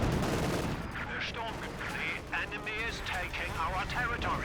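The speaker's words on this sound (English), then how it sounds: "Bazookas does connect onto the Panzer IV." Bazookas fire at a Panzer IV amid battle in the Company of Heroes 2 strategy game, a steady wash of gunfire and blasts with sharp whistling shots over a constant rumble, with a commentator talking throughout.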